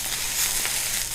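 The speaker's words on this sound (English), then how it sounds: "Now that we have them here, we do wanna saute this." Mushrooms with garlic and rosemary sautéing in a pan, giving a steady soft sizzling hiss with faint crackles throughout and no talking.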